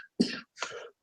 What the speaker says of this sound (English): Let me clear my throat a second.